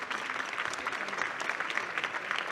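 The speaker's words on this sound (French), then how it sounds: "Vous applaudissez Thomas." A conference audience applauds in a steady, dense wash of clapping from many hands, moderately loud and unbroken throughout, with no speech over it.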